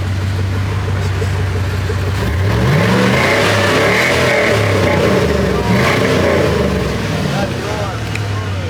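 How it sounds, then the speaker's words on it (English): A lifted truck's engine revs up and holds a loud, steady roar, with voices talking over it throughout. "I'm about to rev it"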